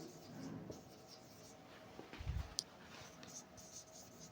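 Marker or chalk writing on a board during a topology lecture, faint scratchy strokes with a few taps, quiet and fairly close in a still room.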